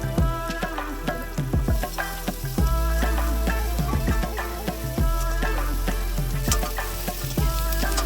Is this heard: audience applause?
no